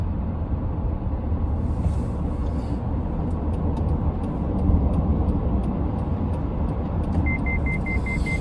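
A car's braking system warning sounds a short series of rapid, evenly spaced high beeps near the end, over a steady loud rumble of road and engine noise from inside the moving car.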